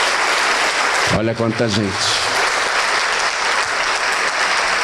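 Church congregation applauding loudly and steadily throughout, with a voice speaking briefly over the clapping near the start.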